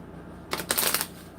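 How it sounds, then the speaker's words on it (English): Tarot cards being shuffled close by in a quick burst of riffling lasting about half a second, set against quiet room tone. "Resistance in the cards to shuffle."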